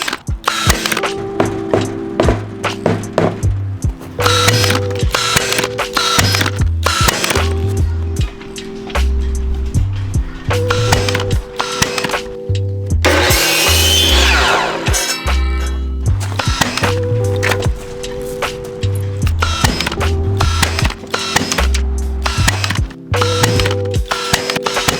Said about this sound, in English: attaching them all with the brad nailer